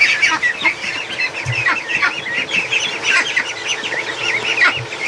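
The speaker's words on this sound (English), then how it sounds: "More and more quacking is taking place here." Young Muscovy ducklings in a hatcher fill the space with continuous high, overlapping peeps and quacks, fairly close and loud, with a fan running beneath.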